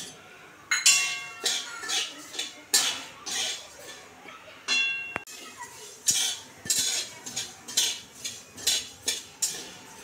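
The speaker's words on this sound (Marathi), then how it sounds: "आता आपण तांदूळ भाजून घेऊ।" Rice dry-roasting in a pan for thalipeeth bhajani, stirred with a metal spoon that clinks and scrapes against the pan in a steady rhythm of repeated strokes, close and fairly loud, with no talk.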